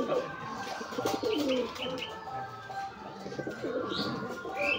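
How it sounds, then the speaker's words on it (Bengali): Giribaz pigeons cooing, a red bird calling with soft repeated coos amid other birds chirping nearby, steady and moderately close with constant background noise. "এই যে লাল এটার ডাক দেখুন।"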